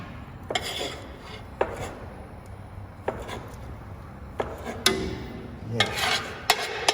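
A roux for a duck and andouille gumbo stirred in a pot, with scattered scraping and clinking knocks of a spoon against the pot over a low background murmur.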